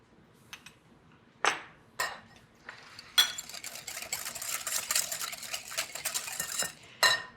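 A wire whisk beats egg yolks with salt and granulated sugar in a bowl: a few separate clinks, then a sustained run of rapid metallic whisking, close and clear, ending in another clink.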